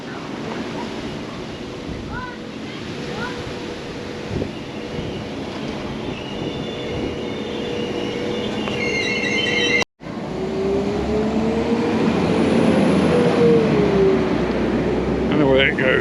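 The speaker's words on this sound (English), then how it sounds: "Another train coming in." A train rumbles into Bangor station in Wales, a steady low roar of wheels and engine with a rising metallic squeal as it slows, loud and close.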